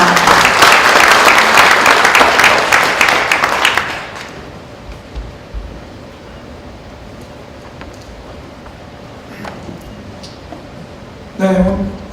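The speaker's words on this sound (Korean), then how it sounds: "큰 박수 부탁드립니다" A hall audience at a Korean science policy forum applauds a speaker coming up to the podium, loud dense clapping for about four seconds that fades out, followed by quiet room tone and a brief voice near the end.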